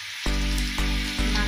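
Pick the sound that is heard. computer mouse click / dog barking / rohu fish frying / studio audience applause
rohu fish frying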